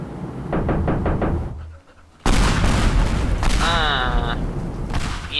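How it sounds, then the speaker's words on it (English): Buster Bomb blasting in the destruction game Teardown: a few sharp knocks, a brief near-silent gap, then a loud, broad, sustained roar of explosion and crumbling debris with a whistling tone partway through. "let me just try Buster Bomb"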